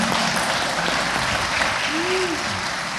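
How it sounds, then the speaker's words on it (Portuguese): Church congregation applauding in a large hall, a dense, sustained wash of clapping from many people throughout, with a voice briefly rising above it. "Aplauda o Senhor nesta manhã."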